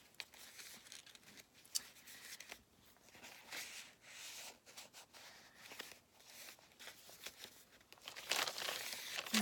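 A plastic bag handled at a craft table, crinkling and rustling in uneven bursts, close and fairly quiet, swelling to a louder crackle near the end.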